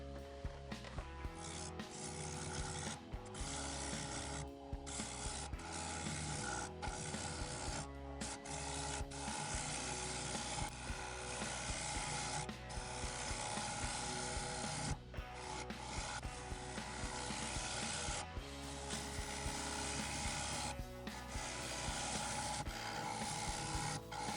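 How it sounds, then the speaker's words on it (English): A birch burl bowl spinning on a wood lathe at 1000 RPM while a 3/8 inch bowl gouge cuts it, a steady loud scraping rasp that repeatedly breaks off and resumes in short passes. "I'm going to be turning this at 1000 RPM using my 3/8 inch bowl gouge"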